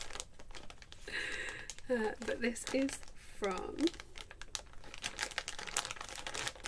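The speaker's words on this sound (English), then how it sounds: "excuse the rustling" A yarn package being opened, with close crinkly plastic rustling and tearing in uneven bursts while someone speaks briefly.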